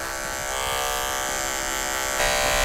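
An electric hair clipper hums steadily while cutting hair during a skin fade, a close, bright, continuous buzz that shifts slightly in pitch near the end, with no talking.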